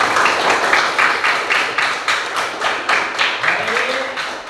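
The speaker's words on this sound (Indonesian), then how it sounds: "Tepuk tangan buat kita semua." Classroom applause from a group of fourth-grade pupils, steady rhythmic clapping in quick regular beats lasting several seconds, close and fairly loud, with a voice rising briefly near the end.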